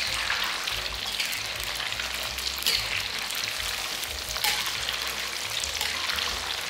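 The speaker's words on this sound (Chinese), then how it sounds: "现在我们就是一路保持大火，把豆腐炸到金黄色" Tofu deep-frying in hot oil over high heat, a steady loud crackling sizzle with dense popping that runs unbroken through the whole stretch, with no voices over it.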